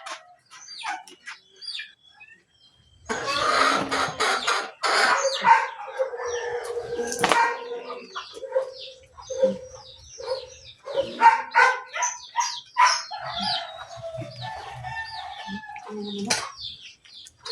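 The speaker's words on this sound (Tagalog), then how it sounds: "Yan ang mga manok." Chickens cluck and call close by, with bursts of loud squawking and crowing amid scattered clucks and quieter pauses.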